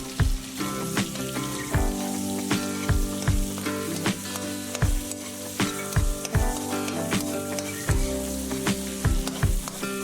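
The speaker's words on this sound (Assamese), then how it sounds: "ৰৈ যোৱা সেই তেলখিনিতে এতিয়া মই ডাঙৰ পিয়াজ এটা কাটি দিছো লগতে 4টা কেঁচা জলকীয়াও ফালি দিছো" Sliced onion and four split green chillies sizzle loudly in oil left over from frying fish, with a steady frying hiss and repeated stirring knocks against the pan throughout, and no voices.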